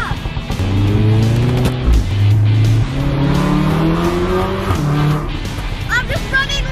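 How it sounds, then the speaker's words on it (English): A tuned Volkswagen Golf R Mk7 with an aftermarket downpipe and pops-and-bangs map revs loudly and close, its pitch rising and falling, with a couple of sharp exhaust pops breaking through as it runs rich. "Pop, pop, pop, pop! Your car pop!"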